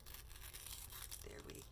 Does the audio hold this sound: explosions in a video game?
no